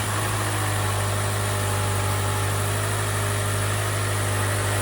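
A car engine idles steadily right after a replacement part was fitted, a constant close mechanical hum with low vibration running the whole time and no voices.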